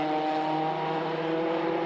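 A rally car on a 2013 European Rally Championship stage in Spain braking into a left-hand corner, a steady droning engine note heard from a distance, without speech.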